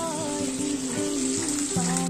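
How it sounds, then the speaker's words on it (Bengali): Onion and garlic frying in hot oil, a dense continuous sizzle and crackle heard close up, with a few faint stirring scrapes and no voices. "তেল মোটামুটি গরম হয়ে গেছে, আমি এর মধ্যে পেঁয়াজ আর হচ্ছে রসুনটাকে ভেজে নেব"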